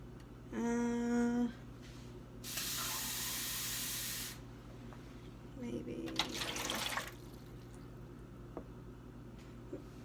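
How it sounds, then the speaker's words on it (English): Water pours steadily into a metal tray for a couple of seconds with a hissing splash, amid a beep and some clattering handling noises nearby. "what you want to do is you're just going to pour some into the tray"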